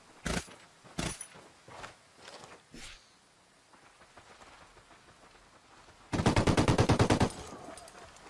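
Gunfire in Ghost Recon Wildlands: a few separate sharp shots early on, then a rapid automatic burst of about a dozen rounds near the end, loud and close.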